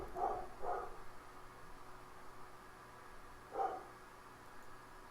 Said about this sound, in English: I've got dogs. Those are in fact dogs.